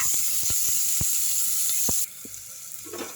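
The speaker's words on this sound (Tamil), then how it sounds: "வெங்காயம் நல்லா வதங்குதுங்க" Onions and curry leaves sauté in a pan for pepper chicken curry, a continuous bright sizzle with a few soft stirring knocks, then the frying drops abruptly quieter and fades.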